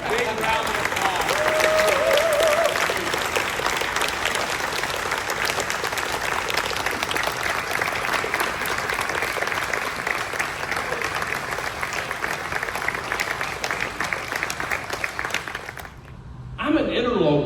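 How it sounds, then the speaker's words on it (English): Banquet audience gives a long, big round of applause, dense sustained clapping with crowd noise lasting around fifteen seconds before cutting off abruptly. "I want to hear a big round of applause"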